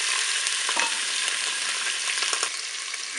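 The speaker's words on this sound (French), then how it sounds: "On va les faire dorer." Chicken thighs browning in a Cookeo pot give a steady, close, dense sizzle of hot fat with a few faint clinks and stirs, no voices.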